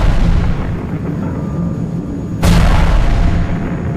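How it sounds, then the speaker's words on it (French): An artillery shell blast in a war film soundtrack, a sudden sharp boom cutting through a dense low rumble, loud and close, with no voices. "un obus dévia de sa trajectoire et embrasa le saint lieu de Sarre-la-Bruyère."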